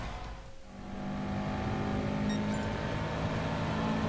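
A race car engine in the game GT Sport drones steadily during a qualifying lap, a sustained whining hum with slight rises in pitch, no talking.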